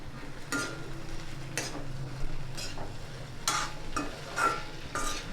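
Fried chicken being stirred into masala in a pan, a quiet sizzle underneath with several scraping strokes of a spoon at irregular intervals.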